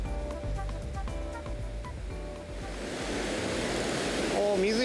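Ocean waves break and wash against a rocky cape shore at its southern tip, a broad surf roar that builds and stays loud, with wind noise and someone talking over it early on.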